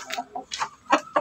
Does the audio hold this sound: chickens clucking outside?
yes